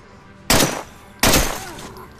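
Two loud, sharp gunshots ring out in the State of Decay video game, spaced under a second apart, each with a short decaying tail.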